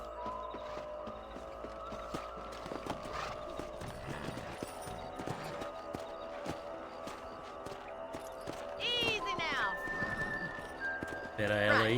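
Horse hooves clatter in a steady clip-clop beneath game music and voices while riding in the video game Red Dead Redemption, the hoofbeats continuous and close throughout.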